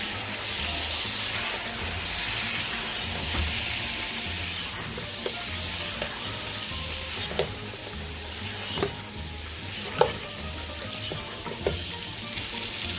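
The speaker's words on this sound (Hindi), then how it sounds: "अब इसे मैं थोड़ा फ्राई करूंगी।" Fish pieces coated in turmeric, red chilli powder and salt fry in a pan with a constant bubbling sizzle, joined in the second half by occasional sharp clinks and scrapes of stirring.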